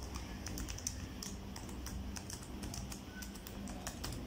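Steady computer keyboard typing, quick close keystrokes in a continuous run with a faint background hiss and no speech.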